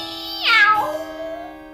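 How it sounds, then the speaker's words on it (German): A single drawn-out cat-like scream used as a sound effect for shrieking cobblestone pavement rises sharply and then slides down into a long, fading wail, close and clear against a quiet background. "Das Pflaster hat geschrien."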